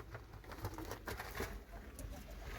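Mardin breeding pigeons cooing in a loft, soft repeated low coos and some fluttering, faint and close, with light background noise.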